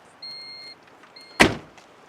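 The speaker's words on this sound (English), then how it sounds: "Let's close the door so we don't have to listen to the buzzer" A car door on a 2001 silver Geo/Suzuki Swift shuts with one sharp, loud slam, preceded by a faint intermittent high door-ajar chime beeping in a quiet setting.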